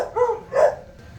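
Excited dogs give two quick, close barks, loud and clear over a quiet background in a workshop where a firewall for an International L110 truck is being welded and ground.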